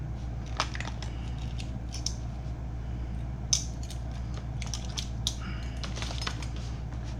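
Small metal sewing pins clicking and tinkling as a magnetic pin holder gathers them, a scattered series of light, close taps and rattles over a low background hum, no voice.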